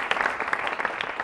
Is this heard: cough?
no